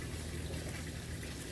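Wild Common reposado tequila, from a 750 ml bottle, poured in a quiet, steady, continuous stream of liquid that lasts throughout.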